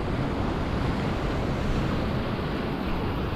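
Ocean waves roll onto a beach after a cyclone, a continuous broad wash of surf mixed with wind buffeting the microphone, steady and fairly loud throughout the short stretch with no talking.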